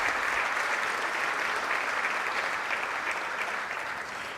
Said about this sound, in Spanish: le damos la bienvenida con este aplauso a todos ustedes